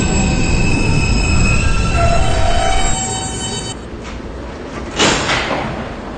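An R160B subway D train runs along the rails, its steady loud rumble carrying a long wheel squeal that fades after a few seconds, then a brief clunk near the end.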